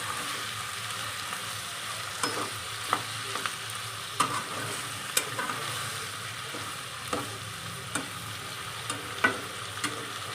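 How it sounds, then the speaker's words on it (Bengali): A pan of potato and bean fry sizzles steadily while a spatula stirs it, giving a soft continuous fry punctuated by irregular scraping clicks every second or so, close and with no talk. "আমি এরকম নাড়াচাড়া দিয়ে ভাজাটাকে ভালোভাবে ভেজে নেব।"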